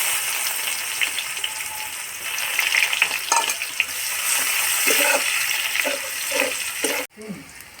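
Panch phoron and onions frying in hot oil, a loud continuous sizzle with stirring scrapes mixed in, ending in an abrupt drop as the frying noise cuts off near the end.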